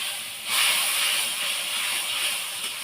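Water poured into hot oil in a pan while cooking, bursting into a loud, steady sizzling hiss that starts suddenly and keeps going without letting up, with no talking over it.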